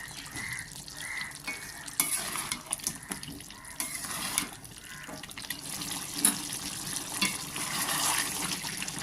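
Mutton with whole garlic cloves stir-fries in its own released juices in a pan, a soft, wet sizzle broken by irregular scraping and stirring strokes up close, without speech.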